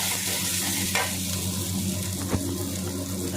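Chopped garlic and ginger frying in a kadai give a steady close sizzle, with a low background hum and a couple of brief scraping clinks from the utensil.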